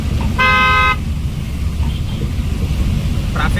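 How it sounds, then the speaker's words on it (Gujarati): Rainy road traffic under heavy rain: a steady low rumble of engines and tyres on wet pavement, broken by one long, loud car horn blast near the start and a brief fainter honk near the end. "ટ્રાફિક તો જુઓ. વરસાદ પણ એકદમ જબરજસ્ત."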